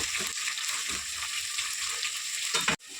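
Potato, carrot and onion pieces frying in a pan for vegetable bagara rice give off a dense, close sizzle with soft stirring scrapes. The sound cuts off abruptly near the end, then resumes briefly.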